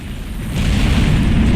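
A deep, rumbling explosion in the video game Max Payne 3, loud and booming with no one talking.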